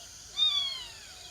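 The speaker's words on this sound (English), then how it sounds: "A rusty spotted cat." A rusty spotted cat, the world's smallest feline, gives a single thin, high-pitched meow, close and fairly faint, with no other sounds around it.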